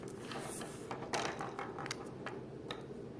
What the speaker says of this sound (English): we're just going to draw a handprint